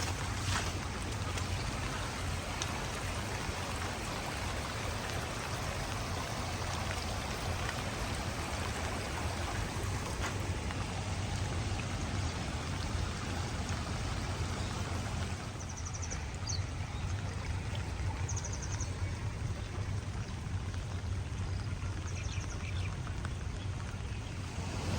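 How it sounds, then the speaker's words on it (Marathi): A village stream swollen with monsoon rainwater rushes in a continuous, dense broadband wash that stays loud and even throughout, with faint high chirps appearing later. "ओढ्याला पण भरपूर पाणी आलेलं आहे."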